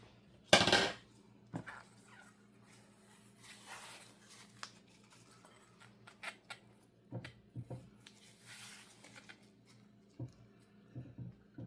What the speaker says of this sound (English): So let's scrape this down. Let's finish this off with the rubber spatula.